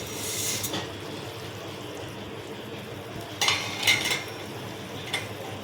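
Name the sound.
stirring Yippee noodles in a pan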